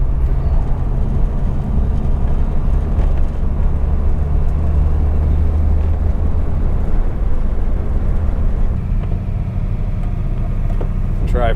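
A 1961 Mercedes-Benz 220Sb W111 with a four-speed column-shift manual pulls uphill in fourth gear, its engine a steady, loud, continuous drone with road rumble and no break.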